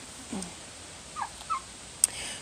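Turkeys on a homestead give a few short, faint gobbles spaced apart, heard from a distance over low background hiss.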